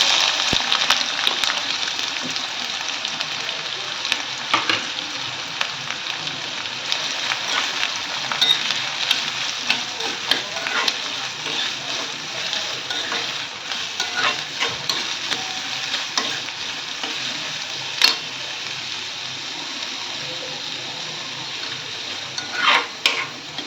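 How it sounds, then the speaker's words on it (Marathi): Onion and green chillies sizzle and fry with garlic in a pan for Maharashtrian methi bhaji, a steady crackling hiss broken by scraping stirs and occasional clinks of a utensil against the pan. "लसूणने थोडासा कलर चेंज केला की लगेच त्यामध्ये घालायचं आहे कांदा आणि हिरवी मिरची"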